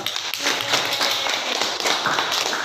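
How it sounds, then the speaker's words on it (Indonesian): Students in a classroom clap together, a dense, steady burst of hand claps filling the short stretch at close range with no talking over it. "Ya, tepuk tangan untuk yang ke SMK."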